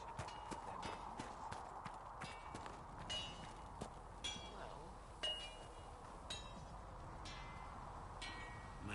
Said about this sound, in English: Have you seen the horses Master Dennis at the Inquisition?